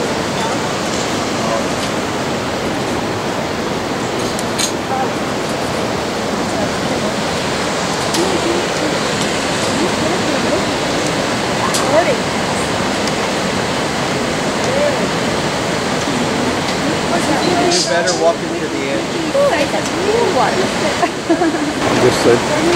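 A waterfall on a jungle walk among coffee plants thunders as a steady broadband roar for the whole stretch. It stays loud and close, and a few brief voices and footsteps come through it now and then.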